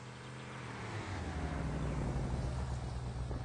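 A light reconnaissance vehicle with armor plating being driven up, its engine a steady low rumble that swells gradually as it draws nearer, with no talk over it.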